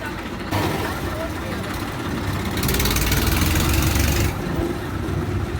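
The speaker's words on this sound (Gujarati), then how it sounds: "દાદાએ ટ્રેક્ટર કાઢી નાખ્યું" A farm tractor engine runs with a low steady rumble, close and continuous, swelling louder for a couple of seconds midway, while voices talk over it.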